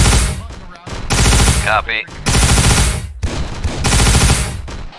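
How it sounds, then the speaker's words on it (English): Rapid bursts of automatic gunfire ring out in ARMA 3 Warhammer 40k combat, loud and close, with brief pauses between volleys and a short spoken reply during the firing. "You see where I'm shooting? Put some rounds over there."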